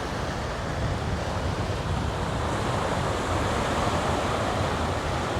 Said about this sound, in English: Even the crashing of the waves.